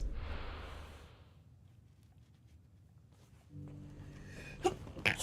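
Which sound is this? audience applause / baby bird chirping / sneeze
sneeze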